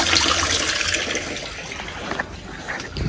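Water pours steadily into a water butt fitted with a float valve, a continuous hissing rush at close range with no voices.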